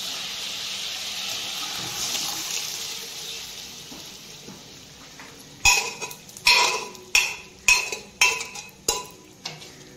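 Spices are mixed into a bubbling curry of puffed rice in a pan: a soft steamy hiss fades out, then about seven loud, rhythmic scraping strokes of a spoon against the metal follow, close by.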